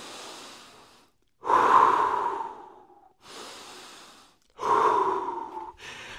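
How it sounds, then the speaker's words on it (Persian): Deep breaths taken during a plank exercise: two long forceful inhale and exhale cycles, near and loud, with brief silences in between. "نفس عمیق بکش"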